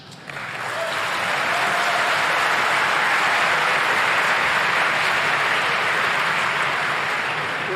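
Sustained audience applause at a French university political debate with a European election candidate, rising quickly and holding steady and loud throughout, with no talk over it.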